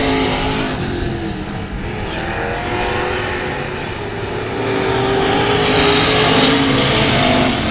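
Street stock race cars roaring around the 281 Speedway oval, a loud dense pack of engines that rises and falls as the cars sweep past, with no voices in this stretch.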